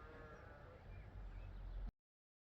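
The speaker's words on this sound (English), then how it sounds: "I hear sheep." Sheep bleating in open countryside in Andalucía, a few wavering calls carrying over steady outdoor ambience before the sound cuts off abruptly.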